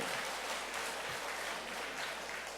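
Church congregation clapping during a worship service, a dense, steady wash of applause that holds level for a few seconds, fairly faint and distant in a large room.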